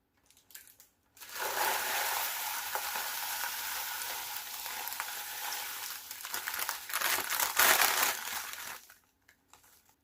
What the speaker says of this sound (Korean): 시리얼 블럭을 잘게 부숴서 반죽으로 넣어줄게요.